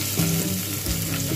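Chopped onion fries in a little hot oil in a wok, giving a brief, steady, close sizzle and hiss.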